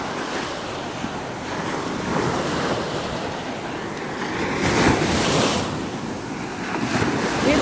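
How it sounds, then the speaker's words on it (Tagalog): Steady roar of ocean waves breaking close by at Kalanggaman Island sandbar, Leyte, Philippines, swelling louder in places, with wind buffeting the microphone. "dito malakas yung alon sa malalim"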